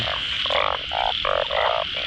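Frogs croak near a night pond in northeastern Thailand, repeating loud, buzzy calls in a quick rhythm over a steady hum of insects.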